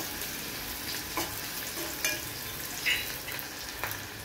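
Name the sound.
onion sautéing in oil with cumin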